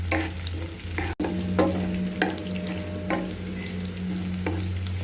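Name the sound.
cumin, dried chilies and curry leaves frying in oil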